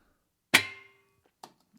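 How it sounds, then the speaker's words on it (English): A lighter strikes a metal candle holder in a kitchen, one bright ringing cymbal-like hit that decays over about half a second, followed by two softer taps. "I believe I'm hitting like a lighter against the candle holder to create that sound."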